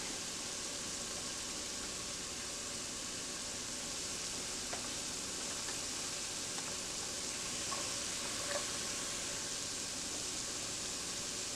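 Onions tossed into a pan of drained cooked meat give off a steady, even hiss of frying, with a few faint clicks of a spoon against the pan.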